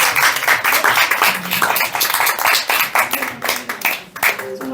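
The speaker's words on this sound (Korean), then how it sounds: "우리 수고했다고 베트남에 박수." A church congregation claps during a Sunday service, a lively burst of hand clapping with uneven rhythm and a few louder near claps, while a voice briefly speaks near the end.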